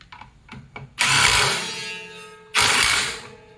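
Ratchet backing out the clutch bolt on an FMod F500 snowmobile primary clutch, two loud bursts of close mechanical whirring and clicking, about a second and a half then a second long, separated by a quieter pause.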